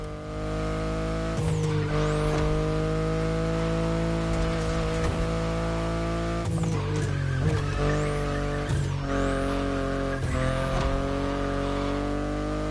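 A BMW i8 in the racing game The Crew Motorfest gives a steady, loud engine drone with shifting pitch and repeated sharp tire squeals as it drives, with no one talking.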